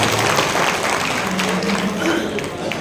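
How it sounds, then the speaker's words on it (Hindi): Applause fills a BJP event honouring city traders, a continuous dense wash of clapping over crowd murmur and background noise, loud throughout. "ताली बजा के मेरा आग्रह है"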